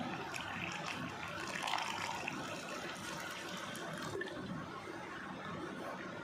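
Water is poured into a bowl of flour batter with chopped green chilli, a soft continuous splashing trickle heard close and fairly quiet for several seconds.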